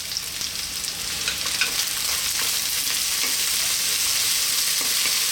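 Eggplant cut small and beans fry in a pan over high heat, a steady, dense hiss with scattered crackles and pops, close and loud throughout with no talking.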